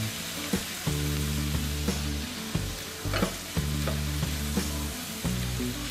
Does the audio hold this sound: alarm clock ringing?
no